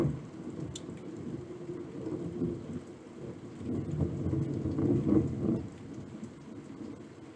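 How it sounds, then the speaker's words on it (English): Rolling thunder rumbles through a storm with rain, a low, sustained roar that swells and peaks near the end before easing off, with no voices over it. "Usually when we get bad weather like this with the thunder rolling like that, I lose power"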